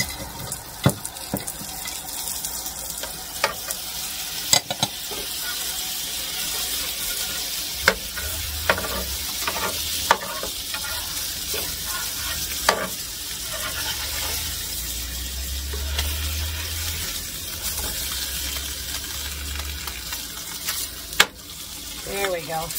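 Potatoes fry in butter in a pan beside fish, a steady loud sizzle running throughout with scattered pops and crackles and occasional clinks of a utensil, close up and without talk.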